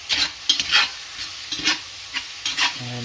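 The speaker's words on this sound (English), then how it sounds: "you can see it's just slowly starting to sizzle because it's coming to a nice little temperature" Venison pieces frying in a hot pan for an 18th-century style stew, a soft steady sizzle broken by several scraping stirs of a utensil, close and moderately quiet, with no talking.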